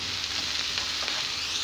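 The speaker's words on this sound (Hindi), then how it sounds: "और नमक भी और ये अदरक लहसुन की पेस्ट भी। इसे हम दो तीन मिनट के लिए अच्छी तरह से भूनेंगे।" Ginger garlic paste frying in a pan with green chilies and salt, giving a continuous close, bright sizzle with no speech over it.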